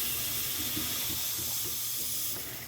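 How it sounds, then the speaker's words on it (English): Water rushing through the supply line after the water supply to a Culligan Gold Series water softener is turned back on, a steady close hiss of flow that eases slightly at the end. "Now I can actually turn the water on"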